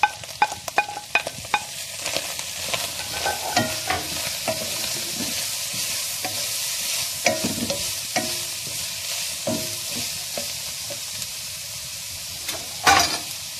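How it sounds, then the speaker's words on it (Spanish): Beef steak and onion frying in a pan: a continuous bright sizzle with repeated scraping and clacking from stirring, louder near the start and close to the end. "Aquí le voy a poner a la carne la cebolla primero"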